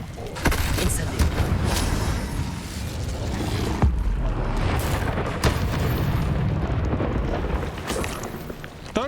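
Incendio fire spell cast in Hogwarts Legacy, a dense whooshing, crackling burst that stays loud and busy for most of the stretch, with sharp transient hits near the start and middle, and game effects layered throughout.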